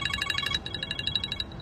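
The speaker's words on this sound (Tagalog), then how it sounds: "May isang beses, nag-ring yung cellphone ko." A cellphone ringtone trills in quick repeated bursts of high tones, moderately loud at first and then continuing a bit softer over low background rumble, with no voices.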